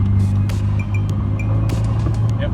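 A sailboat's auxiliary motor drones steadily and loudly nearby, holding a low, even hum with small sharp knocks and clatters on top. No voices can be heard.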